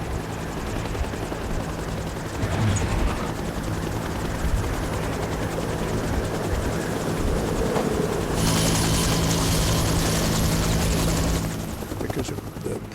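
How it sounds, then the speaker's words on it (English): A helicopter hovers close by, its rotor blades beating in a loud, continuous, dense roar that surges brighter near the end, with voices faintly mixed underneath. "the pilot's going to maintain a hovering position"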